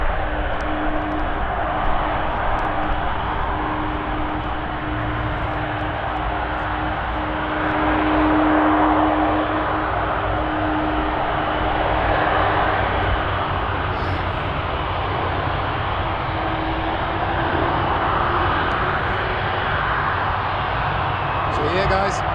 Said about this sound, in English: after both airplanes have passed our camera